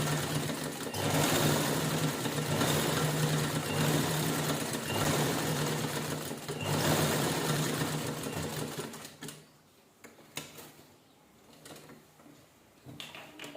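Sewing machine running steadily as it stitches lace onto fabric for a saree cover, a loud continuous whirr for most of the stretch, then stopping and restarting in short, quieter bursts near the end.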